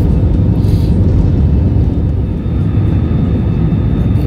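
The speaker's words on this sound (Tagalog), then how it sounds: "umpisa na magtakbo-takbo yung aeroplano, waiting for take-off" An airliner taxiing at the airport before take-off, heard from inside, gives a loud, steady low rumble with engine drone that runs unbroken throughout, with no talk.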